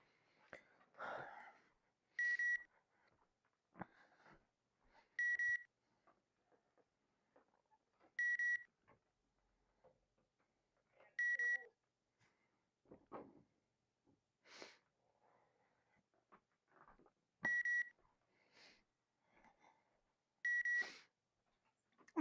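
Short electronic double-tone beeps repeat about every three seconds during Hogwarts Legacy play, sharp and clear over a quiet room with faint breathing and small rustles between them.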